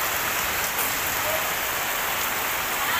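Heavy rain pounds a tin roof on a village house, a loud, dense, unbroken patter that stays constant from start to finish.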